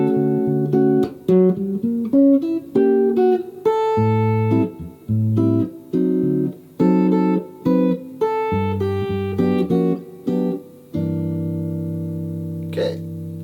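Guitar chord-melody arrangement of a bossa nova tune, in a Latin style: plucked chords and melody notes ringing in a lilting rhythm, close and clear, ending on a sustained chord.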